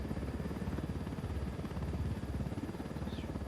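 Helicopter rotor in the video game Ghost Recon Wildlands, a low, steady chopping thrum with a rapid beat, running quietly and evenly throughout with a faint high whine above it.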